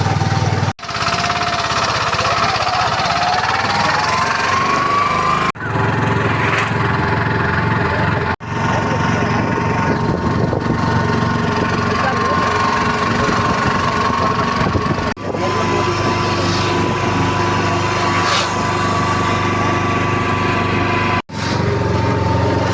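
Taxi engine running while driving toward Panwadi in Madhya Pradesh, a loud, steady engine drone with a rising pitch as it accelerates, punctuated by several brief dropouts, with a voice audible at times.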